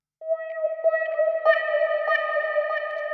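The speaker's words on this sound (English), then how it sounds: "it sounds especially cool when you add an echo after it" A sustained synth tone in an Ableton techno production is run through an echo effect, with repeating reflections and a ringing, reverberant tail that layers on itself, heard alone without voices.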